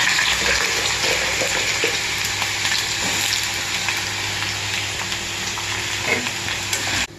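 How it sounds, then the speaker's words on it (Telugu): Potato pieces sizzle loudly in hot oil, a dense steady crackle with scattered pops running throughout, close and unbroken until it cuts off at the end. "బంగాళదుంపలు ఫ్రై చేస్తున్నానండి నూనెలో బంగాళదుంపలు వేసేసి"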